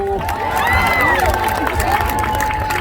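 A crowd at an All Alaskan Racing Pigs show cheers and shouts for a racing pig named Sloppy Joe, a continuous loud roar of voices with whistles and children's yells.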